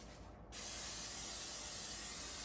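A steady, close aerosol hiss of cooking oil spray starts abruptly after a brief quiet moment and continues evenly without pause, coating chicken satay before air frying.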